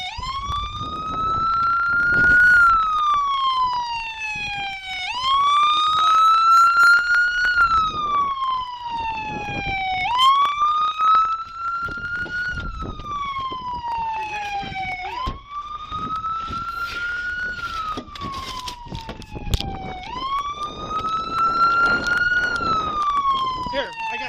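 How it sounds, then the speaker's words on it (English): A police car siren wails continuously in long rising and falling sweeps during a traffic stop, loud and close, with faint voices and vehicle noise underneath. "Turn that siren off."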